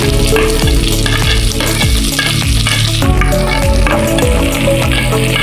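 Onion and chili fry in ghee for ghee rice, a loud continuous sizzle with repeated scraping and clinking of a spoon stirring the pan.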